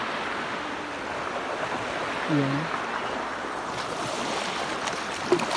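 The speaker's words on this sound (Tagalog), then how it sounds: "Ayan yung kanilang dagat eh." Sea waves wash steadily onto an island beach of white sand, a constant broadband surf with light wind, while a voice speaks briefly over it.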